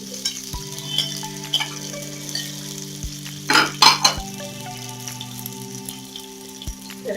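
Green chillies sizzle and fry in hot oil in a pan for puffed rice upma, a steady crackle with sharper bursts as a utensil stirs and scrapes, close and alone with no talking.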